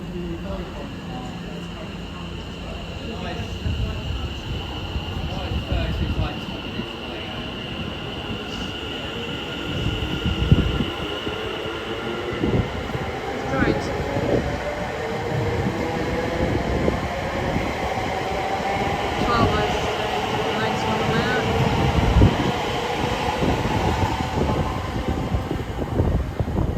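A freight train runs through a station platform, a continuous rolling rumble with repeated wheel clacks and a rising metallic squeal and whine over it, moderately loud and steady throughout.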